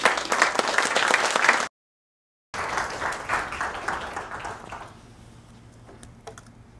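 Audience applause welcoming writer Jon Shirota to the stage, a dense crackle of many clapping hands that breaks off briefly, resumes, then thins and fades to scattered claps.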